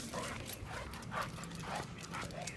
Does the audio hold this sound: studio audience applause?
no